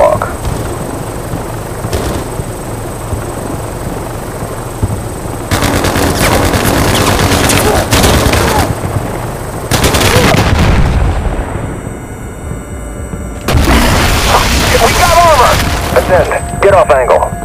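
Tank fire and explosions in the mobile shooter game Battlefield Mobile, with loud booming blasts and rapid bursts of gunfire arriving in several heavy clusters, some separated by brief quieter gaps, with voices talking over parts of it.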